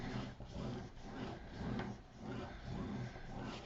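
Paper in a handmade mini album is burnished with a rubbing tool, a steady scraping rasp that surges in repeated strokes, close and moderately loud with no talking.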